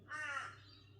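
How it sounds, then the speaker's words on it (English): A crow caws once outside a caravan, a single harsh, fairly clear call that fades quickly over quiet background. "There's a crow out there."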